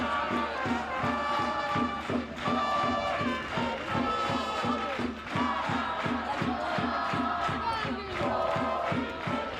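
A football stadium crowd at the CBL Shield final chants in rhythm, with steady, beat-like stomping or clapping under a loud, continuous wash of voices.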